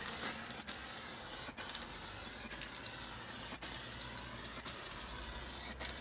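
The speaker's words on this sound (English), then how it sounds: "we've got the crackle effect paint going on here." Black crackle-effect spray paint hisses steadily from an aerosol can onto paper, a close, continuous spray broken by five or six brief pauses where the nozzle is released.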